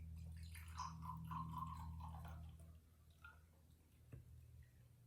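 Water pours into a container with a rising gurgle for a couple of seconds, then trickles off into a few quiet drips.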